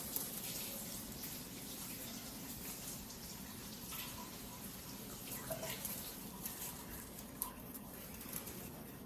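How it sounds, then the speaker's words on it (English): A child washes their hands under a running sink tap at home, with a steady, close wash of flowing water and small splashes throughout and the occasional faint knock. "let's go wash your hands in real quick"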